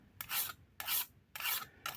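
Spokeshave blade rubbed on a sharpening stone in a circular motion, four rhythmic rasping strokes close up, each about a third of a second, with short quiet gaps between.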